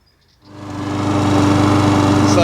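A petrol lawn mower engine starts up and ramps to a loud, steady buzzing drone that holds close by for the rest of the clip, with no talk.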